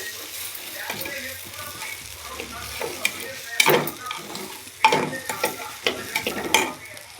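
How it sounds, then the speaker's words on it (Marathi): Rice frying and being stirred in a pan, with a low sizzle under repeated scraping strokes of a spoon that grow louder and more frequent toward the end. "तांदूळ टाकले आता चांगला फ्राय करून घेऊ आपण तांदूळ"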